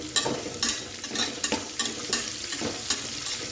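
Onion dropped into hot oil for Kannada-style lemon rice sizzles close up, with rhythmic stirring scrapes every half second or so over the steady frying hiss.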